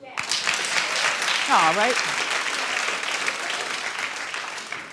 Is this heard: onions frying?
no